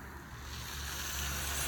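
Syrup poured from a cup onto a tray of baklava in a kitchen makes a soft, steady liquid hiss that swells slightly as it flows, faint and close, with no talking.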